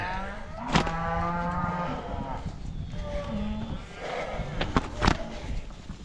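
Cattle on a drive moo repeatedly, several long lowing calls from nearby animals mixed with outdoor noise and occasional sharp knocks, and a voice speaks faintly in the background.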